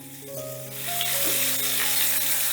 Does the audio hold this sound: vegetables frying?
yes